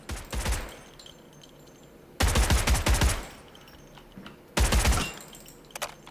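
Three loud, clipped bursts of automatic VSSM rifle fire in the Delta Force Hawk Ops shooter, each rapid string of close shots lasting under a second and separated by quiet gaps.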